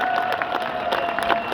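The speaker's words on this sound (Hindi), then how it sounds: "यार तालियां मारो यार" Seminar crowd at a network marketing talk breaks into brief clapping and a few cheers, a quick burst of scattered hands at fairly close range.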